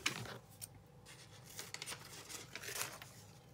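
Scissors snip through paper while cutting out drawn doodles, a close, quiet series of irregular crisp snips and paper rustles with no talking.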